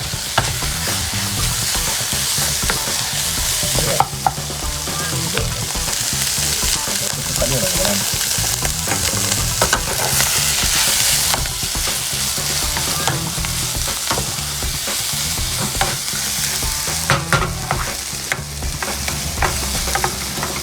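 Chicken hearts and livers sizzle steadily in hot oil in a home kitchen pan while a utensil stirs them, with scraping and clinking knocks over a constant, close frying hiss.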